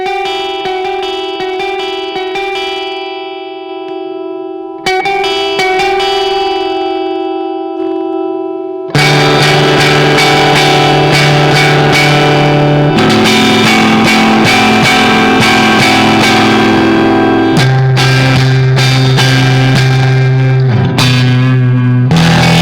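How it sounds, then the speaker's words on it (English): An electric guitar runs through a Strymon Flint with reverb mix and tremolo intensity maxed, driving a small amp into heavy breakup: sustained, pulsing chords with long washy tails, loud throughout. "Pushing my little amp into some pretty serious breakup there, almost a bit too much."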